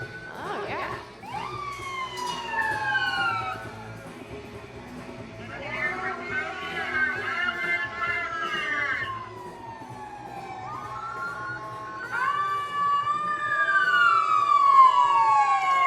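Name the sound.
emergency vehicle sirens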